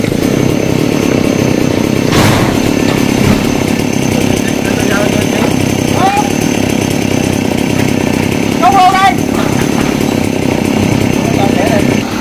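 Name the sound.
chainsaw cutting golden oak tree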